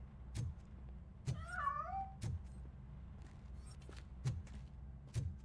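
A cat in a video game meows in a short wavering call while escaping from a piano, among a series of soft thumps and knocks spaced a second or so apart.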